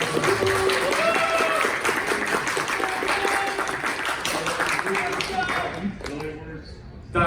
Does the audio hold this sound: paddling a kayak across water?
no